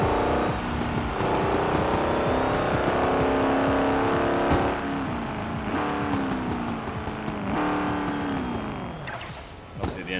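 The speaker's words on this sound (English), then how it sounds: "I obtained this Ford Raptor. Very nice, very loud truck." A Ford Raptor truck in the Forza Horizon video game roars loudly and close, its engine revving up and down through gear changes with rising and falling pitch and occasional tire noise. A brief dip comes near the end.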